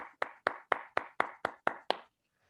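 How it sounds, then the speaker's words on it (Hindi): A few people at a business session clap to welcome the speaker, making eight sharp, evenly spaced claps that stop abruptly, close and fairly faint, with no voices. "जोरदार तालियों से सर का वेलकम होना चाहिए।"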